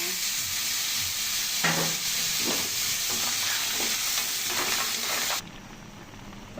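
Ginger, garlic, tomato, onion and mussels sauté in a pan with a loud, constant hiss, overlaid by repeated clattering stirs, until the sizzle abruptly drops quieter near the end.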